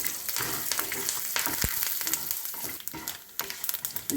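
Curry leaves drop into hot oil for a tempering while making vangi bath, producing a close, continuous crackling sizzle dotted with sharp pops and spits that carries on with no talk.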